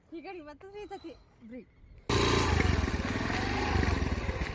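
A scooter engine bursts into a loud, steady roar as the throttle opens during a beginner's riding practice, right after a person speaks briefly.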